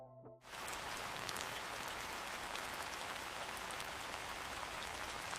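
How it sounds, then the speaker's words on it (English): AI-generated heavy rain pours down onto a leaf, a dense and steady hiss of countless drops after a brief tonal snippet at the very start, continuing evenly and close throughout. "the sound design layers in the dense, rhythmic pattern rain makes when it's heavy"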